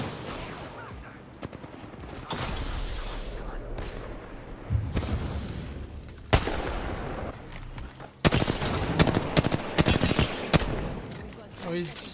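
Apex Legends gunfire goes on throughout, with bursts of automatic weapon fire, sharp single cracks and booming impacts. It swells into dense rapid volleys in the second half, mixed with other game noise, and a voice talks over part of it.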